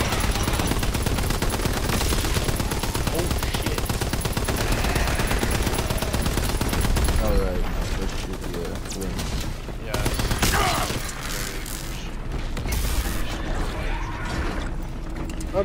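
Dense, continuous gunfire from the World War II shooter Call of Duty: WWII fills the first half as a loud rapid rattle, then thins into scattered shots and game effects while players talk over it.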